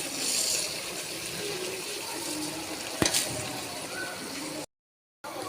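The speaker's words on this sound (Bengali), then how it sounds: "এখন এখানে আমি চাল ধুয়ে রাখছি, চালগুলো ঢেলে দিব।" Rice being rinsed under running water for a chicken biryani gives a steady close stream, with one sharp clink midway and a brief dropout into silence near the end.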